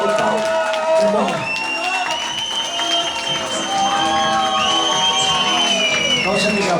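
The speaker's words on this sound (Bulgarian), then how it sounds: "Точно така, аплодисменти." Wedding guests at a Bulgarian celebration cheer and applaud as a crowd, a steady loud wash of clapping and shouts with music-like tones and voices running through it.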